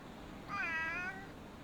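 A single drawn-out cat meow, clear and fairly close, rising over a quiet room hum with no talking.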